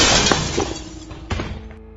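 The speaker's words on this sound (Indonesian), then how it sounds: "Suara pecahan kaca yang nyaring memecah keheningan malam." Window glass shattering in a house at night in a horror story, a loud close crash that spills into scattering, tinkling shards before fading.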